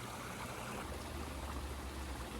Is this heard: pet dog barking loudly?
no